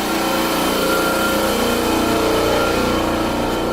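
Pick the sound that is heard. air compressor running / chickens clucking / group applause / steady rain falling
air compressor running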